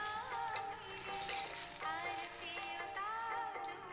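Eggplant frying in a pan of oil, giving a steady, close sizzle and hiss that continues throughout, with some tonal wavering sounds running over it.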